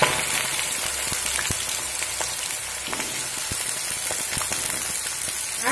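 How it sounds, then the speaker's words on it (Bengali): Cut potatoes fry in hot mustard oil, crackling and sizzling continuously with scattered pops, loud and close. "তো তেলটা আমি গরম হতে দেব। দেখুন তেলটা গরম হয়ে গেছে। এখানে দিয়ে দেব কেটে রাখা আলু"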